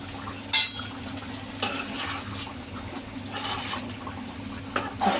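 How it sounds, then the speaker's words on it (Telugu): A spoon stirs a dry curry of dried prawns, taro and egg in a metal pan, with soft scraping and a few sharp clinks against the pan over a low steady hiss, close by and without talk. "చక్కగా ఇలా కలుపుదాము"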